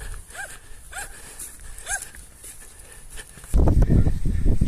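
A dog gives a few short, sharp barks outdoors in quick succession, then a burst of loud rustling and handling noise close by.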